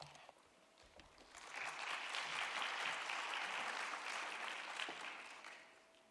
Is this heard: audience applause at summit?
yes